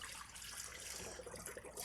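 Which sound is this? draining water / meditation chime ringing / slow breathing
draining water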